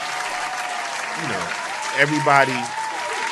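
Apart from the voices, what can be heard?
clapping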